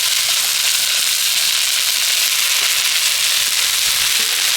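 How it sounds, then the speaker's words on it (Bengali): Soaked sago pearls hit hot ghee in a pan and sizzle loudly, a steady dense crackle of frying that runs without pause, close and bright, with no voices. "তো এবার এই ভেজানো সাবুটা আমি ঘিয়ের মধ্যে দিয়ে দিচ্ছি"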